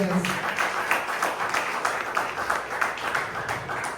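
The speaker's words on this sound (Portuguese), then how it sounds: "Aplausos, Senhor Jesus." A church congregation applauds during a service, a dense patter of many hands clapping at moderate distance, steady for several seconds with a few voices mixed in.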